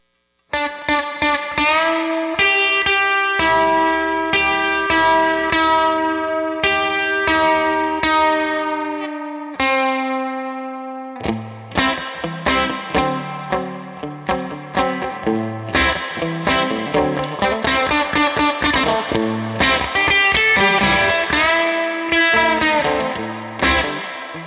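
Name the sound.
electric guitar country lick played through effects pedal rig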